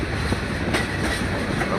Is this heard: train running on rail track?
yes